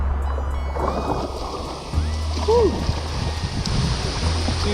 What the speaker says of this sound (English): really need to paddle hard now.